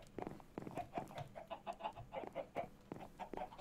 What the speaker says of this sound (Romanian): E găină.